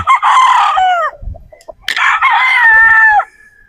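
Two loud rooster crows close by, each a long drawn-out call, separated by a brief pause with a few soft clucks and rustles.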